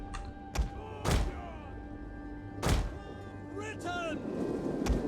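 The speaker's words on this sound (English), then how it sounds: "let's throw some javelins at them" Javelins thrown in a Total War: Rome 2 battle land as a few heavy thunks, spread out over a low, steady battlefield rumble.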